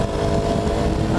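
A small-displacement motorcycle engine revs on a ride in the Philippines, a loud, close, steady buzzing drone that holds at high revs for about a second.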